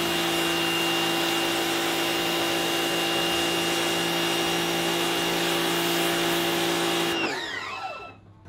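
Bigzzia pressure washer sprays steadily through its white nozzle, a loud continuous hiss with a humming pump beneath, then cuts off abruptly near the end, leaving a brief fading whine.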